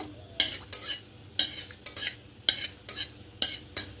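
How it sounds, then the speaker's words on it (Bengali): Dried red chillies, fried very crisp in oil, are stirred in a pan: a steady sequence of sharp metal spatula scrapes over a faint sizzle, roughly two strokes per second, close up. "দেখুন, লঙ্কাগুলো খুব কড়া করে ভাজা গেছে।"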